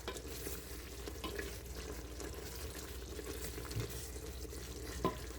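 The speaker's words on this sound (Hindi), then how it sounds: "इसको भी मैं फ्राई कर रही हूँ" Boneless chicken frying in a pot gives a soft, steady sizzle with occasional stirring scrapes, quiet and close, with no talk.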